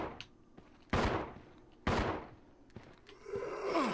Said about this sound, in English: I was literally shooting it non-stop